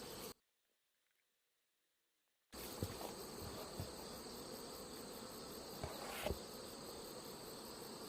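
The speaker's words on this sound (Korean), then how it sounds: "태어난 숯벌들도 많고." Drone bees, many newly hatched, buzz steadily inside a hive, a dense continuous hum with a cricket-like high whine, loud and close after a brief silent gap, with a few small bumps and taps.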